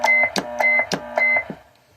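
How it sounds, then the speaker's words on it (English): Short electronic roger beep from a Galaxy DX99v CB radio, a rapid burst of several tonal chirps in a stepped pattern lasting about a second and a half, then fading out, with no speech. "Roger beep."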